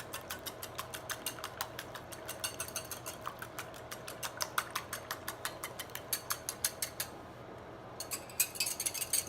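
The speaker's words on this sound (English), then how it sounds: "we give those a little whisk before we put them in with the bananas" Eggs beaten with a whisk in a small bowl for banana nut bread, a steady run of quick metallic clicks and taps against the bowl, fairly close and clear with no talking.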